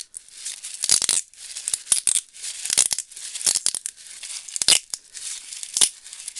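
Florist tape ripping as it is pulled from the roll while making a small craft flower: a series of sharp, crackly tearing bursts of uneven length, close and fairly loud, with short pauses between the pulls.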